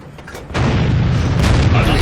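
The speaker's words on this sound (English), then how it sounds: "Artillery's firing away." Artillery guns firing in the World of Tanks video game, a deep booming blast arriving about half a second in and rolling into a sustained loud rumble of battle noise.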